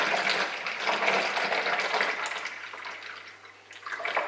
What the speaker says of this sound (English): we just pour the coffee drink into the jug through the funnel